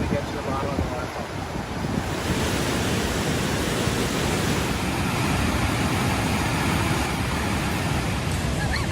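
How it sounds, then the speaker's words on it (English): A loud chute waterfall roars in a dense, continuous rushing wash that fills the scene, with wind on the microphone and faint voices buried beneath the steady noise. "Look at that waterfall, guys. It's very loud"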